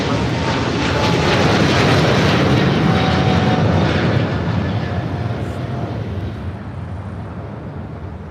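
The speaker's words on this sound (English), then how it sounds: "This is Korean Air Cargo 274 taking off to Seoul on a 777 freighter" A Korean Air Cargo Boeing 777 freighter roars on takeoff at LAX, a loud, broad, rumbling jet thunder that swells early and then slowly fades as the aircraft climbs away.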